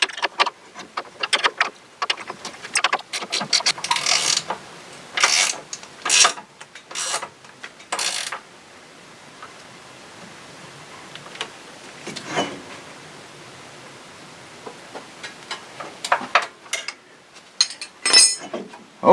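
Metallic clinks and ratcheting clicks from tightening the rear bushing bolts on a Polaris ATV, coming in quick irregular bursts with quieter pauses, close up and without speech.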